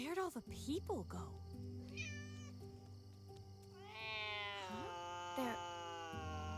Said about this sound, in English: There's cats and dogs all over the place.